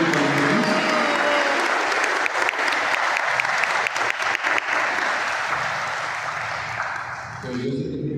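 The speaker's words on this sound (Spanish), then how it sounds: "démosle un fuerte aplauso por la delegación" Guests at a golden wedding anniversary celebration give a strong round of applause, loud and continuous for several seconds before tapering off as a voice and room sound return at the end.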